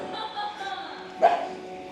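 A dog barks once, sharp and fairly close, amid a murmur of background noise and faint voices, in flood-hit Sri Lanka.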